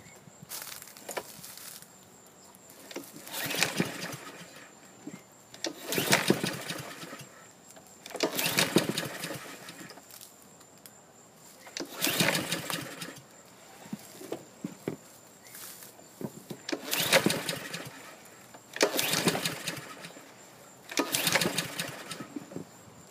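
Repeated pull-starts on a Troy-Bilt TB130 gas lawn mower engine that won't fire: six or seven evenly spaced rasping recoil-cord yanks, each a short loud burst with brief engine sputter, separated by quieter pauses, close to the listener.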